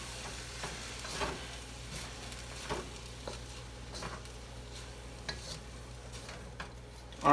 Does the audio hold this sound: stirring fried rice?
yes